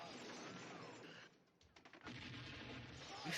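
Film squibs burst in rapid bursts simulating gunfire during a staged fight scene, dense crackling pops before and after a short lull, mixed with a busy soundtrack.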